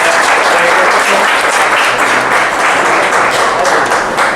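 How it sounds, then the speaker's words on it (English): Loud, dense applause from a large party crowd, sustained steadily throughout with no break. "crowd of applause"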